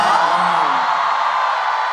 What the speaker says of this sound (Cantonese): 咪多啲呼呼聲先啊？